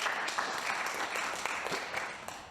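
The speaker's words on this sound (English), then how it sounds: "make sure that we all here and at home give a round of applause for Rudy van der Beek" Audience clapping at an indoor lecture, a steady wash of applause for a couple of seconds, moderately loud and continuous.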